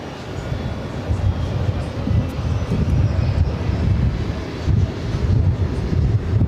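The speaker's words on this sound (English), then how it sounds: "British Airways Speedbird flight coming in from London Heathrow." A British Airways jet arriving at JFK from London Heathrow sends a low, rumbling engine drone that swells and pulses, buffeted by gusty wind on the microphone.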